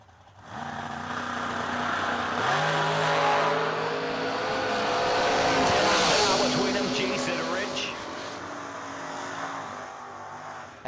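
At a drag racing event, a Firebird runs against a supercharged coupe, with a loud engine roar building, peaking and fading over several seconds while an announcer talks over it.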